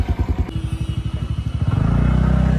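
Motorcycle leaves a parking area in Srinagar, its engine thumping in a steady low pulse that quickens and swells into a louder continuous drone as it pulls away, close by.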